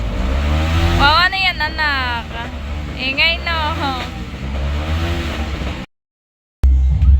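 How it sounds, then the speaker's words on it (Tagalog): Vehicle engines revving repeatedly outside during New Year celebrations, loud rising and falling revs in several bursts, with a sudden cut to silence and a brief return at the end. "Kaya po kanya-kanya pong ingay po dito ng mga sasakyan."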